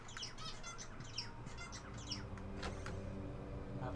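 Bird squawks and chirps inside the video game Walking Dead: Survival Instinct, several short calls and wing-flap-like bursts spread over a steady low game ambience.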